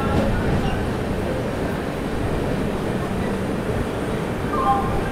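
The Visakha Express pulls into Brahmapur railway station, a broad steady rumble of the train filling the platform with a constant loud roar and no distinct clacks standing out.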